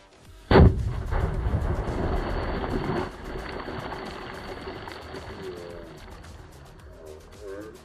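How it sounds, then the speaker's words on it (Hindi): A sharp, heavy underwater blast from a VIP firecracker bomb booms once, followed by a long rumbling wash of churning water that slowly fades; faint voices surface near the end. "बम की आवाज़ क्या तगड़ी आई थी।"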